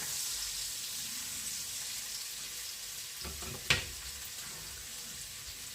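Pork fat (salo) fries in a pan with a steady, soft hiss. A brief clatter of a utensil cuts in near the end. No one speaks.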